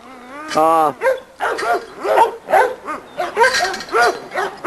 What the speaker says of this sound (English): This is a dog that we call Rosebud.